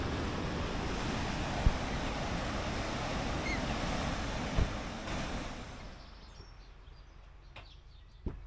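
Big ocean waves crash and roar along the New Zealand coast among islands and rocks, a loud continuous wash of surf with wind noise that gradually fades, with a few faint knocks over it.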